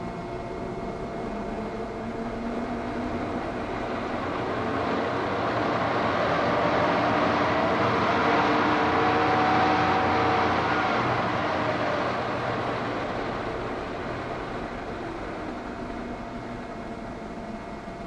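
A reassembled vehicle dynamo runs on a power-driven test bench in a workshop, giving a steady, continuous mechanical hum and whir that swells slightly mid-clip, with no talking.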